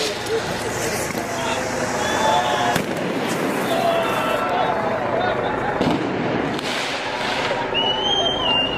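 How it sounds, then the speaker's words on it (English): Fireworks go off in a street in Leeds, set off by a man in a red top toward police, with repeated crackling bangs and whistling over a noisy crowd. "Male with red top, letting fireworks off."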